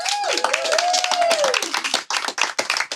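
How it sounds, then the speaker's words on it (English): Small studio audience claps for Karla of SalviSoul on a podcast, a quick burst of hand claps that fades and turns sparse by the end, with a voice and a whistle-like tone riding over the start. "Let's get a round of applause for Karla."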